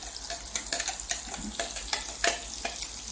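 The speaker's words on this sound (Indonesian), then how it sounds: "masukkan bumbu yang sudah saya blender, sudah rata dengan warna yang sangat menarik" Blended red spice paste for Balinese spiced eggs being stir-fried in a pan, a steady close sizzle broken by scraping stirs and light clinks of a utensil, with no talking.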